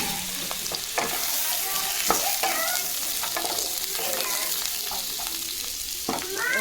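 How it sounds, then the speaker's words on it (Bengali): Diced potatoes fry in oil with five-spice seeds, a loud, dense, crackling sizzle up close, punctuated by sharp scrapes and knocks of a spatula stirring the pan. "আলুগুলো একটু ভাজা ভাজা করে নেবো।"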